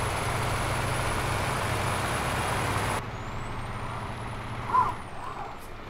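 A Ford Cargo D1210 truck in Euro Truck Simulator 2 drones at a steady engine rumble, then the tone shifts softer with a brief hiss near the end, like an air brake release.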